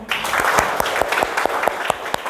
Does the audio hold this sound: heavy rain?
no